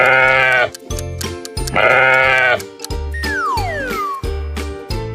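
A sheep gives two loud, wavering bleats as part of a children's animal-sound quiz. Bouncy jingling music with a sliding boing effect plays underneath.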